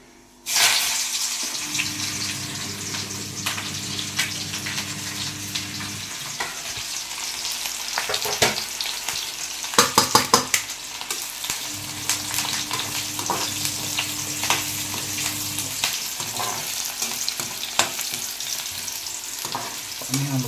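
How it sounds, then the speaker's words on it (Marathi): Garlic and curry leaves fry in hot oil in a pan for a Konkan-style jackfruit bhaji, with a continuous loud sizzle and crackle, bursts of spattering midway and a low steady hum underneath. "लसूण कढीपत्ता टाकते"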